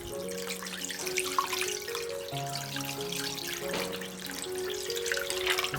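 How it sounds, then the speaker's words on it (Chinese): Clean water poured steadily into a pot holding duck meat with a slice of ginger and cooking wine, a continuous splashing pour running under melodic background music. "倒入清水"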